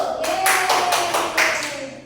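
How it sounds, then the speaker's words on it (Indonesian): Students in a classroom clap their hands together during a microteaching lesson, a short burst of several quick claps that are moderately loud and close by. "LK1, LK2 nya tepuk tangan dulu"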